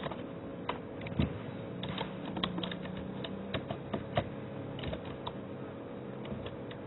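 Keys on a computer keyboard with a Thai layout clatter in quick, uneven bursts of close clicks, with a faint hum underneath.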